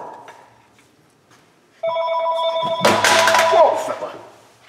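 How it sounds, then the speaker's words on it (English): A telephone rings in a garage workshop during a driveshaft U-joint job, a clear electronic tone that starts midway and grows louder, with someone talking over it. "there's that mother loving phone."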